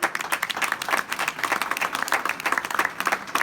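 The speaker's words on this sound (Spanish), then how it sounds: "Brindémosle un aplauso más, por favor." An audience applauding at a Spanish-language cultural conference, dense, sustained clapping from many hands filling the room evenly throughout.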